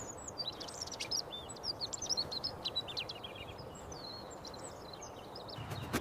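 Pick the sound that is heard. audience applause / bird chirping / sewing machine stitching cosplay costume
bird chirping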